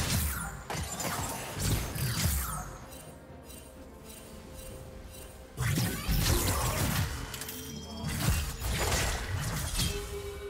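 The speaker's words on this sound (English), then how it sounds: "Red Team's turret has been destroyed." Turret being destroyed in League of Legends: loud shattering crashes with crumbling debris and brief whooshes, one burst near the start and heavier crashes around the middle and late in the clip, with no talk.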